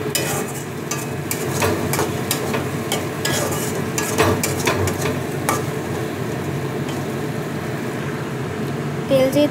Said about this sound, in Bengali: এখন আমি এখনও একটু একটু করে কষিয়ে যাচ্ছি।